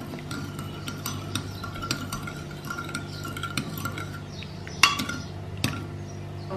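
A metal teaspoon stirs coffee in a cup, ringing in quick, steady clinks against the sides, close and fairly quiet, with one sharper knock near the end.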